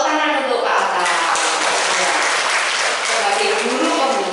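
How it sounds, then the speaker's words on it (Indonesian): An audience gives Pak Atan a round of applause at a school gathering: dense, steady clapping from many hands, loud and unbroken throughout. "Tepuk tangan untuk Pak Atan"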